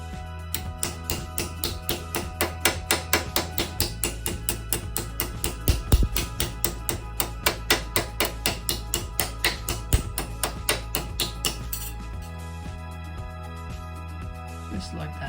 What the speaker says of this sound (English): The best one I found is these panel beating hammers.